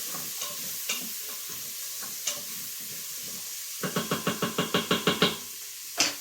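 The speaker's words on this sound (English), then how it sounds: "we're just going to let that simmer and saute for a little bit" Onions sizzle in an Instant Pot on saute, a constant frying hiss broken by knocks and a quick run of rhythmic stirring scrapes from a utensil against the pot, close up with no talking.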